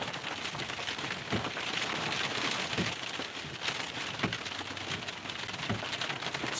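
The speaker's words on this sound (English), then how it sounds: "Wow, it is raining." Steady rain pours down outdoors near a lighthouse on a stormy evening, a dense continuous hiss with occasional louder drips and taps, close and even throughout with no talking.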